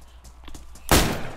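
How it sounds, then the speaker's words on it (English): Gunfire in the video game DayZ, a single sharp loud blast landing near the end after quiet soft steps, its noisy tail ringing out for half a second. "Go to the gunshots."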